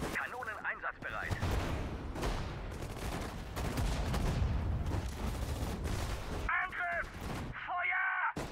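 Gunfire and cannon bursts in Sudden Strike 4 form a dense, loud barrage of cracks and booms. Short voiced unit replies cut in near the start and end.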